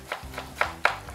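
Knife chopping celery, onion, sweet pepper and culantro on a board: four sharp, close cuts at uneven intervals with a low hum underneath.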